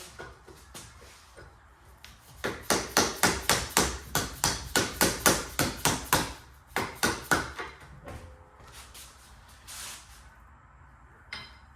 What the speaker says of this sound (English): You can also use a mallet. I use a small hammer.